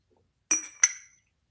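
A piece of rainbow glass clinks twice in quick succession as it is handled, two bright, close, ringing taps about a third of a second apart, with a short shimmering decay and quiet surroundings.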